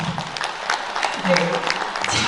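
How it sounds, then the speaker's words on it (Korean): An event audience claps at a singers' celebration, a crowd of hands rising and falling over a couple of seconds, with a voice speaking over the applause. "박수 한번 부탁드리겠습니다"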